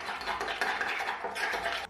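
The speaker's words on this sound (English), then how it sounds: "just keep stirring it together" Utensil stirring a chicken mixture seasoned with salt and mustard in a bowl, a soft continuous scraping and swishing, close and quiet, with no talk.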